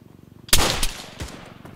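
A single loud rifle shot in the military shooter Arma 3 on a Fallujah patrol, a sharp crack followed by a short echoing tail and a second fainter report, over a faint rhythmic background.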